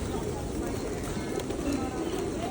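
Pigeons coo at a morning bird feeding spot near a stupa, a soft continuous murmur of many birds under steady outdoor background noise.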